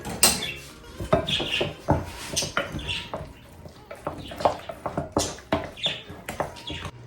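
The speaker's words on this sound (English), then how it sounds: "I'm gonna mix up the ricotta, 16 ounces, with the spinach mixture." Ricotta, 16 ounces, being mixed into a spinach mixture in a bowl, with repeated clinking and scraping of a utensil against the dish in an irregular, steady rhythm at close range.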